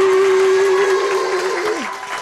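Group of children clapping together in steady, continuous applause, with a sustained high tone ringing over the clapping that dips and fades near the end.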